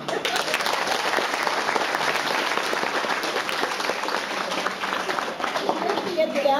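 An audience at a fashion show claps loudly and continuously, a dense wash of applause that holds steady for several seconds before easing slightly near the end, with faint voices mixed in.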